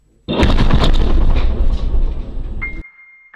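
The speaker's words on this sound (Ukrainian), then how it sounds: "Після того, як до нього з перевіркою підійшли військові, пролунав вибух." A single loud, close bomb blast erupts and rumbles heavily, its roar slowly decaying over a couple of seconds before cutting off.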